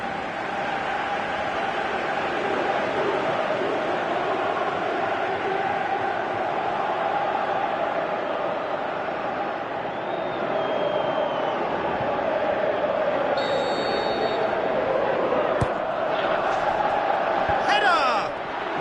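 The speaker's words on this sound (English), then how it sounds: "you can hear how the crowd are reacting to this too" A football stadium crowd roars steadily and loudly throughout a PS4 soccer match, with a constant wash of crowd noise and commentary voices over it.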